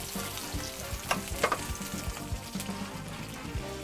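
Fish fillet skin-side down sizzles in melted butter in a frying pan, a close, lively crackle with scattered pops and spatters, no voices over it.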